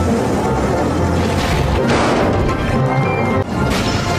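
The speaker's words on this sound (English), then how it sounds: "Soon the diesels and the steamies were biffing and banging and being bumped" Diesel and steam engines from the Thomas and Friends series crash and bang loudly in a continuous run of smashing, thudding impacts, with a sharp jolt near the end.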